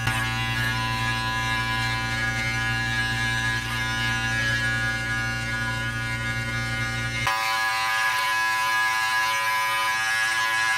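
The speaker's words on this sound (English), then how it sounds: "Cordless clippers are so handy." Cordless hair clippers cutting a hightop fade give a steady, close electric buzz for about seven seconds, then the motor tone drops away abruptly while a fainter hum lingers.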